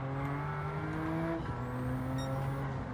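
A Porsche Cup race car in Gran Turismo 7 descends the Corkscrew at Laguna Seca held in third gear, its engine whining at steady pitch with gear-change dips and faint tire noise, quiet and alone.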